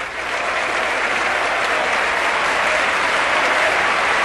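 Sustained, enthusiastic applause fills the US Congress chamber, loud and unbroken, from a large crowd clapping at a steady level throughout.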